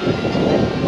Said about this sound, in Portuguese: Levantar o drone.